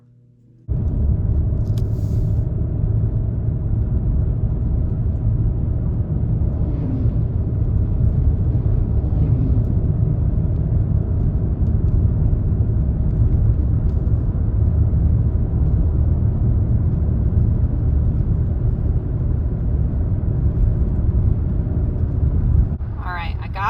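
A car drives on a snowy road with a steady, loud low rumble from inside the cabin that runs unbroken for about twenty seconds.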